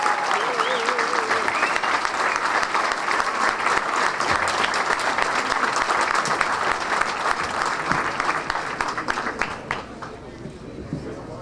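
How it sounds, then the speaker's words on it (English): A large audience in New York bursts into sustained, loud applause welcoming Albanian Prime Minister Edi Rama, dense clapping that continues evenly and then tapers slightly near the end. "let's welcome the Prime Minister of Albania, Edi Rama, with a round of warm applause"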